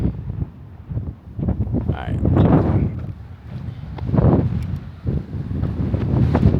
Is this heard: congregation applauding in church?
no